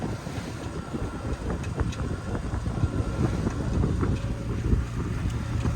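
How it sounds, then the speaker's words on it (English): A small sailboat with an outboard motor on a rudder conversion motors straight into the wind, its low steady engine drone mixed with gusty wind noise and water splashing throughout. "Motoring right into the wind until we make this turn."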